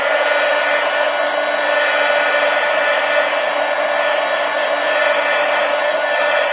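A hair dryer blows steadily and loudly on a watercolor painting, a constant even whoosh with a faint tonal hum, running alone without pause.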